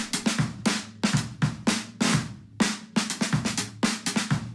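Processed drum kit overhead microphones capture a steady beat, with cymbal wash and snare hits ringing over softer kick thumps at moderate volume.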